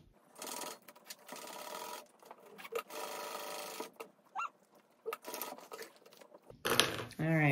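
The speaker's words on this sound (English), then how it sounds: "So now I'm going to sew that on." A sewing machine stitches a fabric backpack in several bursts of rapid mechanical whirring with short pauses between runs, close and clear, followed by a voice at the end.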